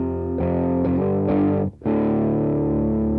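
An electric guitar plays through a Vox AC30 amp simulation in ToneLib GFX, giving a few driven chords struck in sequence, a brief dip, then a sustained ringing chord, loud and alone.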